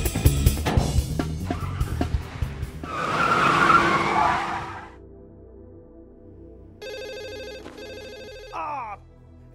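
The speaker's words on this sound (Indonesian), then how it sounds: "ia dikagetkan dengan suara telepon" Old-style telephone bell ringing in short bursts at moderate volume late in the scene, after a burst of car tire skidding and screeching with crashes.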